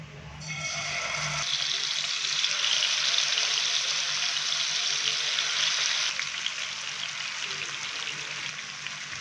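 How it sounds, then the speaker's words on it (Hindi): Chicken pieces frying in hot oil in a pan, a broad steady sizzling hiss that swells soon after the meat goes in and holds evenly, close by with no talking. "चिकन को फ्राई होने के लिए हमने पैन के अंदर डाल दिया है।"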